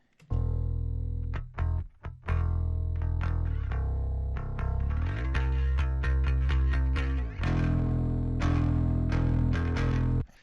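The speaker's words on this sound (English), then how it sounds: "It's once again the bass DI with the CLA bass plugin." Direct-input bass guitar through a CLA bass plugin, playing a riff of punchy, slightly driven notes with brief gaps early on, then a steady run of sustained low tones that stays loud and forward throughout.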